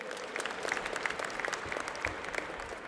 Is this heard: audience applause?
yes